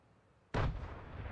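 A single sudden grenade blast in Fortnite, a sharp loud boom that bursts out of near quiet and trails off into a lingering rumble.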